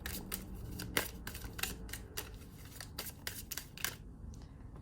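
Tarot cards are shuffled in quick, crisp bursts, a steady run of riffling snaps close by.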